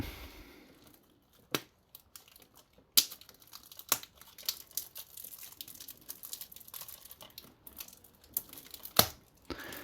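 Plastic shrink wrap is peeled off a PS5 game case for Indiana Jones and the Great Circle, heard as close, sparse crinkles and sharp tearing snaps spaced irregularly over near quiet.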